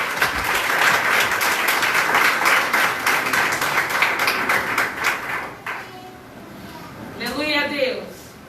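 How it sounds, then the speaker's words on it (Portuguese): A church congregation claps hands together for a minister, a dense sustained round of applause that fades out near the end, followed by a brief voice. "Receba o servo do Senhor com as palmas."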